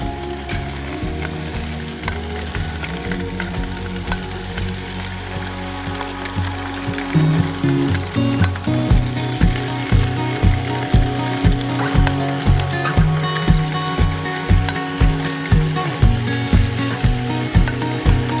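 Meat and vegetables sizzle loudly in a pan with orange stir-fry sauce at a campsite, a steady close frying hiss joined midway by a regular rhythmic tapping pulse that continues to the end.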